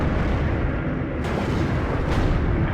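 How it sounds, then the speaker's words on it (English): Distant artillery shells in Steel Division: Normandy 44 land with two broad booms, laid over a constant low, heavy battlefield rumble, and no voices are heard. "Enemy artillery coming in, by the looks of things."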